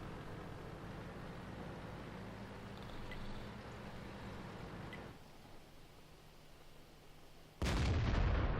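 Artillery fire in World of Tanks, a low rumbling barrage and engine drone that drops away midway, then a sudden loud booming shot close at the end.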